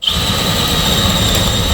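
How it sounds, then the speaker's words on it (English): A power drill bores up through a roof for a wood stove chimney install, starting abruptly and holding a loud, steady high-pitched motor whine for nearly two seconds. "bring the drill bit up through the roof so I can see where I've got to go from the roof"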